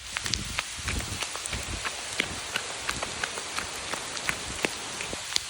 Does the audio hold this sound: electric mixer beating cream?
no